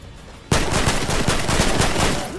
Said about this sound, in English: Oh, he's shooting at someone else.